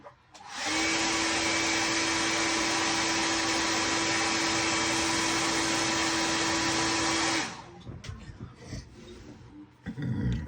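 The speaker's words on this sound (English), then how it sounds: "Hair dryer." A hair dryer blows loudly and steadily with a constant whine for several seconds, then cuts off, leaving faint rustling and handling noises.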